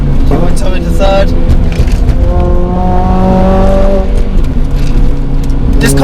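A Honda Civic FN2 Type R engine revs hard under load, rising in pitch as it accelerates and then shifting into third, loud and close from inside the cabin.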